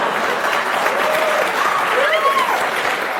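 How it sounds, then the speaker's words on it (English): A studio audience at a comedian's interview with a TV host breaks into steady, close applause that lasts the whole moment, with a voice speaking over the clapping. "They applaud when you smoke."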